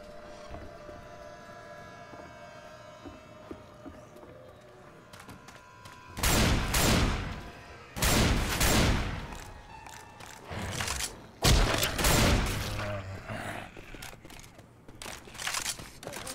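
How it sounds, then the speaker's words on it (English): Gunfire in the video game Left 4 Dead 2 comes as several bursts of rapid shots over a low game ambience, with quieter gaps between the volleys. "Let's stop shooting each other, please."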